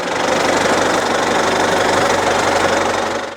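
Tractor driving across a forest plot in Poltava region during autumn pine seedling planting, its engine a loud, steady, close diesel drone with a knocking rumble that runs without a break, then cuts off at the end.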